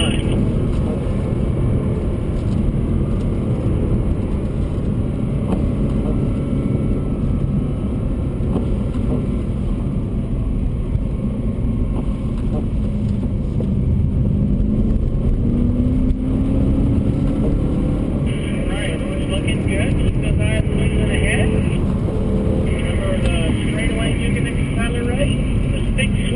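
A BMW M3 on a wet track hums steadily from the cabin with constant road and spray noise, the engine rising and falling gently through corners while someone talks throughout.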